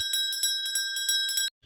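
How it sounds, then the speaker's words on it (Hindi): Small bell rung rapidly and repeatedly in quick bursts for over a second, bright and clear with no voices, stopping abruptly; heard in the early morning at about 4 a.m. "ये कौन घंटी सुबह सुबह बजा रहा है?"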